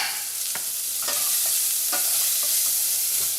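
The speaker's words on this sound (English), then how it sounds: "Now we're going to throw our onions in there. Start cooking our onions" Chopped onions fry in hot oil with a loud, steady, close sizzle. A few soft scraping clicks from stirring break through the hiss now and then, and no one speaks.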